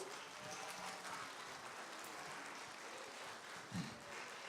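Steady applause from a conference audience, a dense wash of clapping that holds evenly throughout without a clear build or fade.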